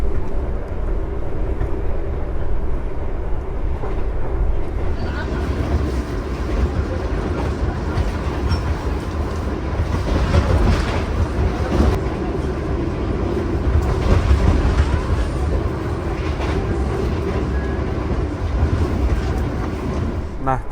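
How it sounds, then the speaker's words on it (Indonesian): The Sembrani executive train rumbles along the rails in a steady, close, continuous roar with faint clickety-clack, heard from inside the carriage. "perjalanan kereta api Sembrani tadi itu udah lewat stasiun Tracey ya"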